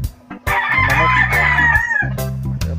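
A rooster at a chicken breeding farm lets out one loud, close, drawn-out crow, with other fowl clucking low underneath.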